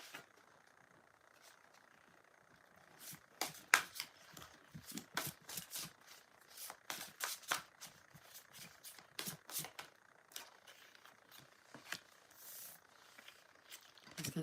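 Tarot cards being shuffled by hand, irregular bursts of soft riffling and flicking that come in uneven clusters, mostly faint, with quiet room noise between them.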